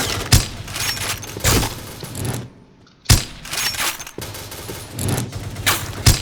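Rapid bursts of gunfire in the Point Blank video game, loud and close, coming in several clusters separated by a brief quiet gap, with no talking over them.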